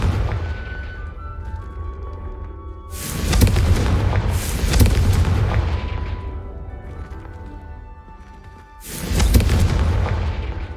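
Confringo fire spell cast in the Hogwarts Legacy video game: a deep booming blast erupts, a second rumbling burst follows moments later, and after a quieter stretch another heavy explosion lands, all over a low sustained game rumble.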